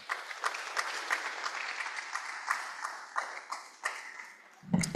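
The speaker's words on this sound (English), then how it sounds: "let's give him a round of applause as he approaches the podium" Audience applause at a Rotary Club meeting as a speaker approaches the podium: steady clapping from a room of people for about four and a half seconds, moderately loud, ending with a louder thump.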